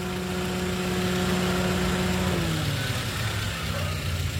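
The engine of a 2012 Toyota Avanza G with a manual gearbox idles steadily and close by, a continuous low hum whose pitch dips slightly partway through.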